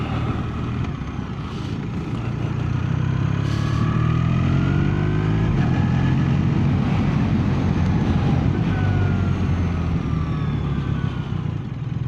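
A new 2026 BMW R1300RS SE motorcycle pulls away from a dealership, its engine a steady loud drone with rising revs and heavy wind and road rumble throughout, no talking.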